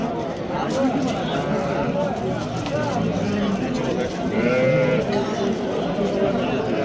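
Sheep bleat repeatedly amid a busy crowd at the Thursday livestock bazaar in Sariosiyo, their calls mixing with nearby people talking and background market bustle.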